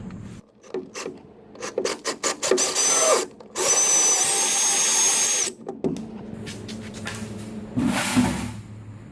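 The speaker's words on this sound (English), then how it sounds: "So I'm going to go ahead and drill this out." A drill bores a bolt hole through a wooden boat bulkhead, in loud sustained grinding bursts broken by short stops and scraping handling noises, close up with no talk.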